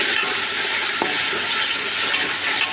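Tomatoes go into a hot pan of frying onions and spices for a vegetable pulao, giving a steady, loud sizzle and hiss with a faint clink of a spoon partway through.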